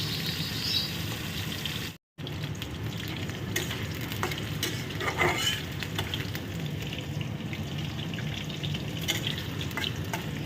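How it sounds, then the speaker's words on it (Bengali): Potatoes frying in hot oil in a home kitchen pan, a steady dense sizzle running throughout at close range with occasional stirring scrapes, briefly cutting out once early on. "তো আলুটা দিয়ে দিয়েছি ভাজতে"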